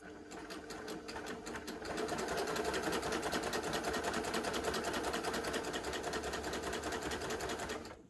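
A Baby Lock Gloria combination cover stitch and overlocker machine sews fabric with a rapid, even mechanical whirring, starting with a few slower stitches and then settling into a steady faster run, fairly quiet and alone.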